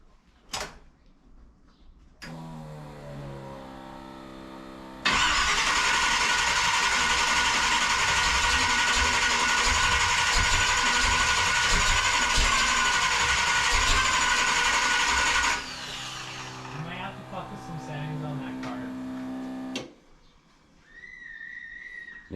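A flooded 1980 Malibu engine is cranked and then roars loudly and steadily for about ten seconds before cutting back to a lower rumble.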